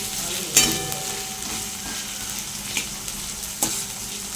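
Onion and garlic frying in oil, a steady soft sizzle close by, with a few sharp clicks of a utensil against the pan and no voices.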